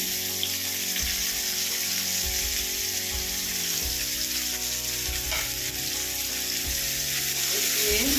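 Chopped onion and tomato fry with potatoes in a pan for a pomfret recipe, a steady close sizzle running throughout with occasional stirring scrapes.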